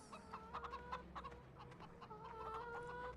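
Several hens in the video game Farming Simulator 2013 cluck in short bursts over a steady low background hum, with a faint sustained tone running through.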